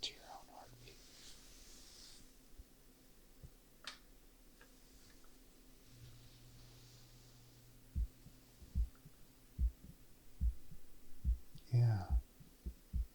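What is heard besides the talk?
heartbeat sounds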